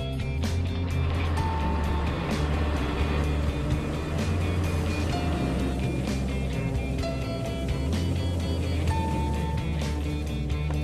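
A bus idling before pulling away, a steady low engine rumble with mechanical hum and faint tonal whines, continuous and close throughout.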